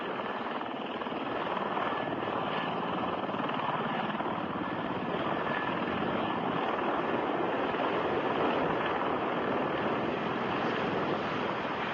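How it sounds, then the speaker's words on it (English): A Kamov Ka-50 Black Shark attack helicopter gives a steady, loud broadband roar with a continuous rotor wash, constant in level throughout without pause or talk. "his Ka-50 Black Shark helicopter"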